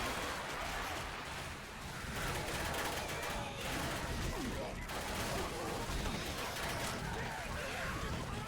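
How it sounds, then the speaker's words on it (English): Rapid machine gun fire rattles continuously in a competitive shooter match, dense and sustained bursts mixed with background game noise at moderate loudness. "A machine gun?"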